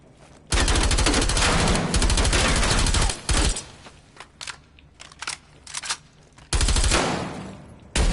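Loud, continuous automatic gunfire from a first-person shooter video game, long sustained bursts broken by shorter volleys and gaps, close and dense, with no talking over it.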